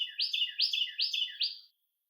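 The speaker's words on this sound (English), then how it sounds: "The Carolina wren is nature's alarm clock and the loudest little bird in my yard." Carolina wren singing in a backyard, four or five loud, clear, rhythmic repeated phrases in quick succession, then silence.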